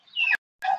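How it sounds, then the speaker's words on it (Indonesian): Chickens in a tiered coop on an integrated farm, including small birds and a rooster, give two short, close clucking calls separated by a brief pause. "Ini ayam, guys."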